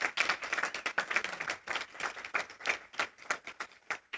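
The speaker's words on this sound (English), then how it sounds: "Please join me in applauding the students and the staff at these schools." Applause at a school board meeting, a modest group clapping with distinct individual claps in an uneven rhythm, fairly quiet and heard alone.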